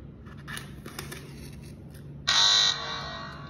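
A fire detector alarm buzzer triggered through an Arduino Uno sensor app: a loud, harsh electronic buzz switches on abruptly and holds for about half a second, then fades to a lower tone, after a few faint clicks in a quiet room.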